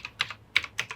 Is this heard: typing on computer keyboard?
yes